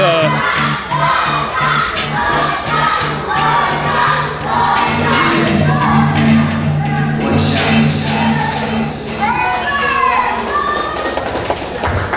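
A wrestling arena crowd jeers and shouts at the wrestler One Shot, a loud, sustained roar with thuds, under a commentator talking.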